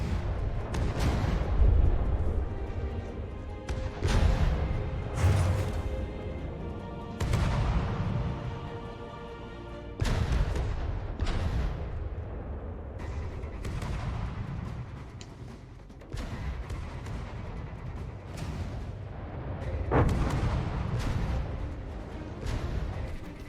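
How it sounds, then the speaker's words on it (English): In an FTD (From the Depths) naval battle, missiles launch and detonate in a series of loud, booming blasts that repeat every few seconds over a constant rumbling din. "Missiles firing."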